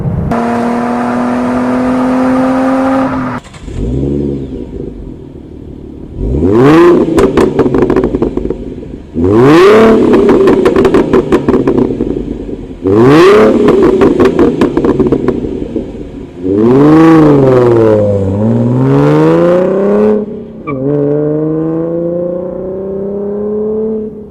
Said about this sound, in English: I'm driving now with the S-type exhaust installed. As you can hear, we've picked up quite a few decibels both inside and outside the cabin